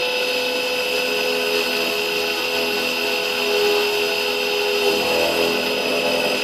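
Santinelli Nidek LEX lens drill boring a 1.8 millimeter hole through an eyeglass lens, a steady, even whirring grind that holds for the full stretch at close range, with no talk over it.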